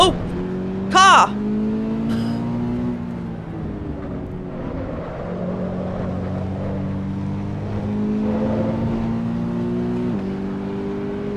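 A race car engine in the Assetto Corsa Evo racing game drones steadily, its pitch rising and falling through gear changes and revs, loud and continuous, with a brief exclamation from the player over it.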